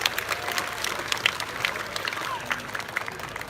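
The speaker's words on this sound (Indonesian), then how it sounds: "Tepuk tangan untuk acara kita ini" Audience clapping at a festival opening ceremony at an open-air art center, a brief, fairly faint patter of scattered applause with some crowd noise.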